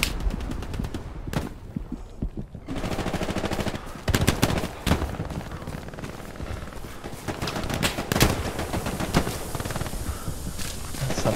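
Machine gun fire in a war video game aimed toward a tank comes in repeated rapid bursts of loud gunshots, dense rattling volleys broken by brief lulls, with battlefield noise throughout and no voices.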